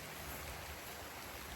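Steady rain falls outdoors during a walk, a soft, even hiss of drops with no other distinct sounds, faint and continuous throughout.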